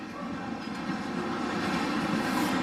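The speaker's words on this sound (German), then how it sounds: "Und hier ist auch schon unser erster Zug." A relatively empty container freight train runs through a station on track 5, a close, steady rolling rumble with rhythmic wheel clatter that holds loud throughout.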